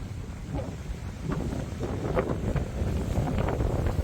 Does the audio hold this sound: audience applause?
no